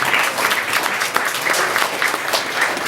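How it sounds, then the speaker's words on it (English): Audience applause for candidates at a Toronto mayoral debate, steady and dense throughout, a full room clapping continuously at fairly loud level with no voices over it. "please give them a round of applause"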